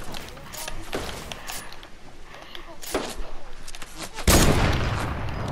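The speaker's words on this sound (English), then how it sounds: "Getting shot at." Gunfire in the video game Fortnite, with several sharp shots and bursts scattered through the stretch and a heavier blast near the end, while a player talks over the action.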